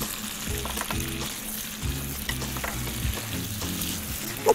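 Onions and green peppers fry in a pan with a steady, close sizzle, broken by a few soft stirring scrapes and no voices.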